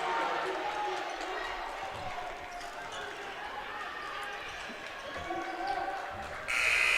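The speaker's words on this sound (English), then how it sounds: "And the buzzer sounds, and that'll wrap it up" A buzzer sounds at the end of a high school boys' basketball game amid gym crowd noise, squeaking shoes and ball bounces, with someone talking over it.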